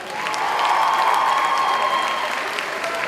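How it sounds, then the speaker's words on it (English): An audience in a hall applauds the board, a loud, even wash of many people clapping that swells and holds for several seconds with faint cheering mixed in. "Give the entire board one last round of applause."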